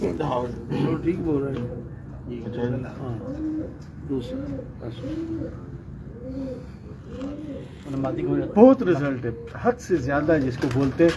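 Pigeons coo in a repeated, rolling rhythm close by, while someone talks over them in Hindi-Urdu throughout.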